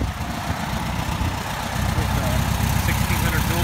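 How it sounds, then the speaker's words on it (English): The engine of a 1965 Volkswagen split window bus idling with the rear deck lid open, a steady, loud low rumble with a dense mechanical clatter that runs evenly throughout at close range. "The engine running with the deck lid open on Mabel, the"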